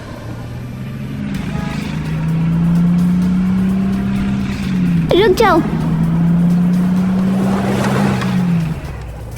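A shiny car pulls up with a steady engine hum that swells and holds at moderate loudness, under a voice shouting briefly and other talk.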